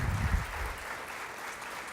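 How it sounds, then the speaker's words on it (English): Applause from the crowd at an annual stockholders' meeting awards ceremony, a steady, moderately faint rush of clapping, with a brief low thump at the start and no clear voices over it. "all the applause you're about to hear is for you"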